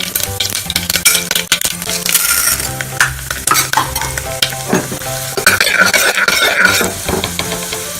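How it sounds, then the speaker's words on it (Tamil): Mustard seeds spluttering and popping in hot oil in a pan for wheat rava upma, with steady sizzling, sharp crackles and occasional stirring and utensil clinks up close, no talking. "கடுகு நல்லா வெடிச்சு வருது."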